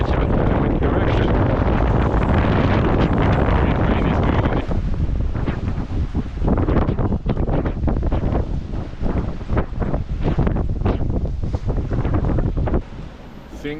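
Strong wind roars across the microphone aboard a sailboat at sea after morning squalls, a loud continuous rush with water and hull noise beneath, and someone speaks over it.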